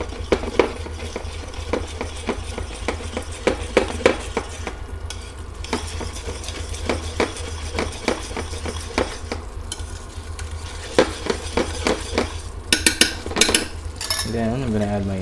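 A utensil stirs cornstarch slurry into chicken mapo tofu sauce in a pan, making quick rhythmic scrapes and clinks over a low background sizzle.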